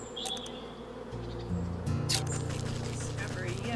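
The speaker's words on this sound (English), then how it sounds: "I hear bees." Bees buzz softly around an apiary in the video game Wytchwood, a steady low drone beneath game ambience, with a brief clatter of small sound effects partway through.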